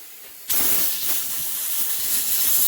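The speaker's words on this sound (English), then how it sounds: "let's see if the compressed air will clean up around that Villiars" Compressed air blasts onto a Villiers engine to clean it, starting abruptly after a brief quiet moment and continuing as a loud, steady, broadband hiss.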